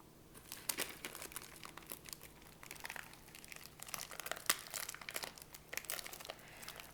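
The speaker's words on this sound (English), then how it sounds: "take the scissors and cut it at the top" Plastic packaging crinkles and rustles up close, with irregular crisp snips and crackles from cutting, quiet and uneven.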